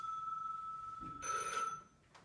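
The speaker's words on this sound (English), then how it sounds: "there will be a phone ringing" A telephone bell rings in a short, steady trill, fairly quiet and alone, then stops, during a tour of the Newman Brothers factory.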